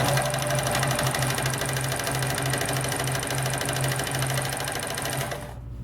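Morse Fotomatic III sewing machine stitching a buttonhole, its needle running in a fast, steady mechanical chatter close up, with no voices, until the motor stops just before the end.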